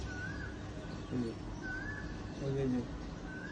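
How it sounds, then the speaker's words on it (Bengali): An Asian koel calls from nearby trees on a village-like morning balcony, giving three faint rising whistled notes at a steady pace behind a person speaking softly. "পাশে কিন্তু আবার কোকিল পাখির ডাক শোনা যেতেছে"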